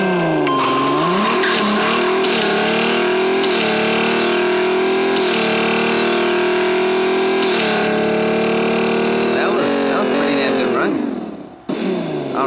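Racing car engine in a Turbo Turf video game, revving with rising and falling pitch and occasional tire squeal, loud and continuous, with a voice talking over it before it fades out near the end.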